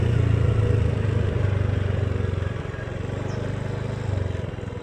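A motorcycle engine runs close by at a steady, loud idle with a low rumbling throb, dipping slightly midway then swelling again, in a rural yard where chickens are kept.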